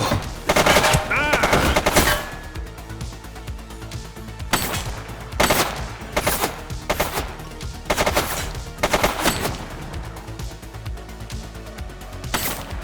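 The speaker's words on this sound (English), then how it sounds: "She's shooting!" Repeated loud bursts of automatic gunfire ring out in The Precinct, a police video game on PS5. The volleys come in spaced clusters across the clip, with no talk over them.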